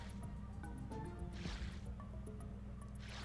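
Ratchet swims through water in the Ratchet & Clank game, soft splashy squishes and drips over a steady game background with bright chiming accents, no talking.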